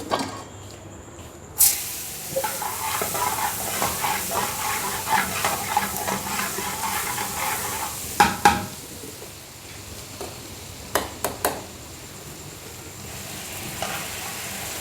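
Millet flatbread (vagharelo rotlo) sizzles and crackles in a generous pour of ghee at a restaurant stall, a steady frying hiss with sharp spattering pops and scraping stirs throughout.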